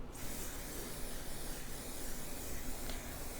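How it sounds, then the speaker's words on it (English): Protector spray misted onto the side of a Fossil Sydney Satchel leather bag, a steady close hiss that runs continuously for over three seconds without a break, with no talk. "I'm just going to spray the side."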